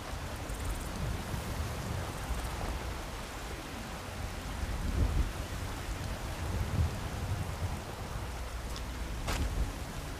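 Steady rain pours down in the video game Skyrim, a dense, even hiss with low thunder rumbling beneath it, continuous and without any voices.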